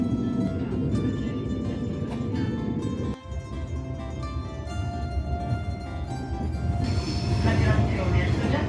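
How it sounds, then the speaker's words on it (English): A train rolling through the Italian countryside, a loud continuous rumble of wheels and carriage noise with tonal hum, steady throughout with a brief dip midway. "Then we hopped a train, watching the Italian countryside roll by"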